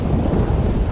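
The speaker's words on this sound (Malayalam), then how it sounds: "എന്താ പതിവില്ലാതെ ഒരു മുടിഞ്ഞ മഴ" Heavy rain with rumbling thunder in a video game, a dense, loud, steady wash of low roaring noise filling the whole short moment with no voices.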